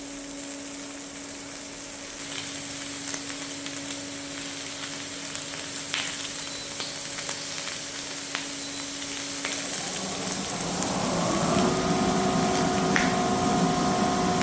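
Pancetta and fresh spring onion sizzle in a pan, a soft crackling fry that swells louder as more goes in, with a faint hum beneath.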